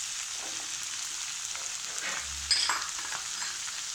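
Mixed vegetables, everything except tomato, sizzle in a pan for khichdi, a steady close frying hiss throughout with a brief louder burst of sputtering midway.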